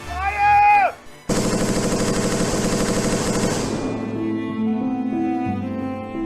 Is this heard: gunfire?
yes